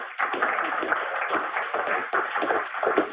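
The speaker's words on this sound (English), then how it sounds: "Round of applause for Misha." A presentation audience claps for a speaker named Misha, scattered applause holding steady for about three seconds at moderate loudness.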